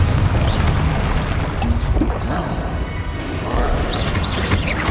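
Booming blasts and crashing impacts from the Confringo fire spell in Hogwarts Legacy, loud and dense throughout, layered with game noise and no clear pauses.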